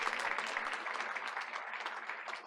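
An audience at a school board of education meeting gives a round of applause: dense, even clapping sustained throughout at a moderate, slightly distant level.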